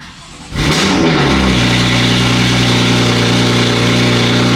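A BMW F80 M3 engine cranks and catches, then roars up to a loud, steady rev that holds close and continuous.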